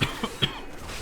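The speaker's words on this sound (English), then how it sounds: "Apologies for the coughing as well." A person who is slightly unwell coughs three times in quick succession, close and fairly loud, then near silence.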